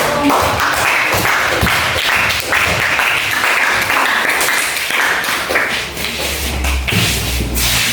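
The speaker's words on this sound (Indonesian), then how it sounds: "beri tepuk tangan untuk" Students applaud in a classroom, producing close, uneven clapping with a few shuffles and thumps from desks mixed in, and it continues throughout.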